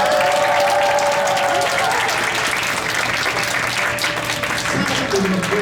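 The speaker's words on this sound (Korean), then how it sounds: "큰 박수 부탁드립니다." A church youth festival audience applauds an award recipient, steady sustained clapping from a large crowd throughout, with some cheering and voices mixed in.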